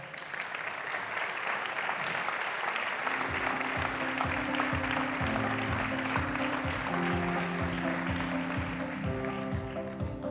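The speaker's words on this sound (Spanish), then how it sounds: "Un aplauso, por favor." An audience at the opening panel of a cybersecurity conference in León, Spain, applauds steadily for about ten seconds, dense continuous clapping with music joining in the background partway through.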